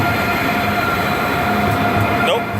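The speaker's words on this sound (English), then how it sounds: "Nope, not my train." A train runs past a station platform with a steady, loud rumble and rail noise, and a brief squeal near the end as it keeps moving.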